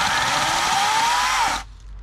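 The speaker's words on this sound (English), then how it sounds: "is that the electric chainsaw?" An electric chainsaw runs at steady high speed with a loud buzzing whine, then cuts off abruptly as the motor stops.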